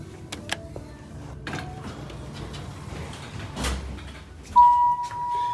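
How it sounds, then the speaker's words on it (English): A 1990s Dover Oildraulic hydraulic elevator at a surf shop runs with soft mechanical clicks and rumbles, then its doors slide with a sudden louder hum and a sustained tone near the end. "let's take one final ride on this nice Dover Oildraulic elevator from the 90s"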